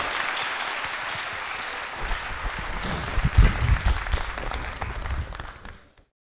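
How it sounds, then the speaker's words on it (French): Audience applause fills a mayor's 2015 New Year greetings ceremony in Fourmies, a steady, dense clapping from a large crowd that swells briefly in the middle before fading out near the end. "Merci de l'applaudir encore."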